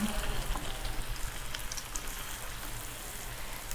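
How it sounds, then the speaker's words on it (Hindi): Rolled taro leaf slices fry in a pan of oil, giving a steady, even sizzling hiss with faint crackles throughout, moderately quiet and continuous. "कटिंग के बाद हम इसको फ्राई कर रहे हैं"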